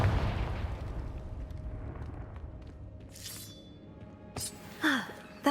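A Confringo blasting spell goes off in Hogwarts Legacy, with a few sharp bursts and pops late in the moment over a low rumbling game ambience.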